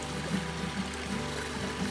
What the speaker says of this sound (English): See, it's not a big waterfall, but it sure makes a lovely sound.